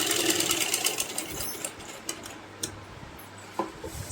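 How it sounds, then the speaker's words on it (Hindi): A sewing machine stitches a baby frock, its needle running in a fast, steady whir with faint ticking taps, close and moderately quiet. "देखिए इसको वापस से एक बार और सिलाई लगा लेते हैं।"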